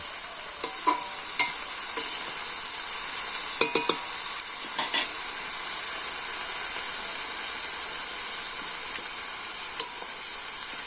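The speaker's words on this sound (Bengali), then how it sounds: "প্রথমে সরিষার ডাল দিল তারপরে কাঁচা লঙ্কা তারপরে মাসের ডাল দিয়ে একটু ভাইজা" Mustard dal, green chili and urad dal with five-spice fry in hot oil in a Bangladeshi village kitchen, giving a steady bright sizzle with scattered small pops and crackles throughout.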